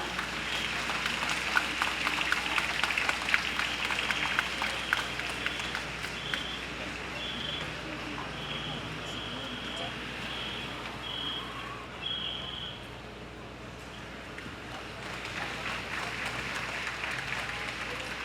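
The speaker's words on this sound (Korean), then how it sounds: "위로와 격려의 박수 부탁드립니다" Applause of comfort and encouragement from a crowd at a national teachers' memorial rally, a long, steady patter of clapping heard from some distance, fairly quiet and even throughout.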